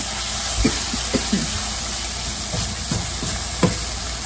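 A seasoned mixture with onion powder melting and sizzling in a pan, a steady frying hiss with a few soft scraping knocks of stirring, close and alone.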